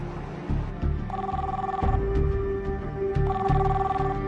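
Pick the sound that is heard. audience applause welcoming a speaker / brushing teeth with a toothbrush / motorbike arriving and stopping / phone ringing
phone ringing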